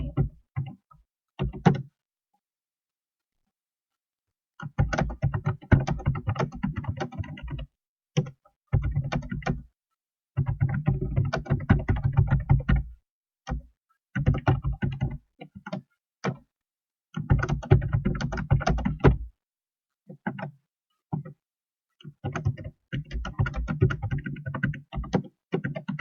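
Bursts of quick keystrokes on a computer keyboard as a greeting card message is typed, close and crisp, broken by short silent pauses between runs of typing.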